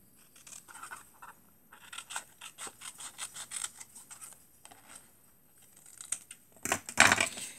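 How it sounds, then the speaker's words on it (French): Scissors cutting paper in a straight line for a sea-themed ABC craft, with a run of short, soft snipping and scraping strokes at close range, ending in a louder crisp cut near the end. "Alors là, je vais venir découper. Je vais découper droit."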